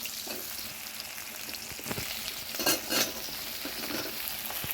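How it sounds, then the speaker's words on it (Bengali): Okra frying in a pan with onions and chillies makes a constant close sizzle, broken around the middle by a few louder stirring scrapes and utensil clinks. "এর সঙ্গে ভিন্ডিগুলো দিয়ে দেবো, ভাজা হবে।"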